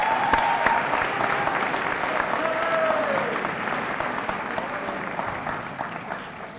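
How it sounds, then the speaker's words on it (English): A school audience at a senior awards night applauding, a thick steady wash of clapping that slowly fades, with faint cheers and voices mixed in. "So let's give Ms. Gentili a round of applause for her amazing job tonight."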